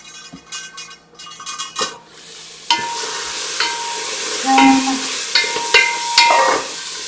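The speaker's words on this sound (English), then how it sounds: "So you can hear my stovetop going. I'm going to stir." Onion, carrot and curry paste frying on a stovetop, hissing and crackling close up as a utensil scrapes and clinks against the pan in several separate stirring strokes.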